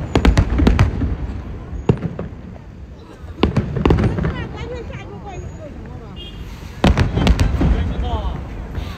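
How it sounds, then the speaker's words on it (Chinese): Government-launched fireworks thud and crackle in several rapid volleys separated by quieter gaps, some distance away, while people chat nearby. "你们在那边听到这个烟花的声音大不大？"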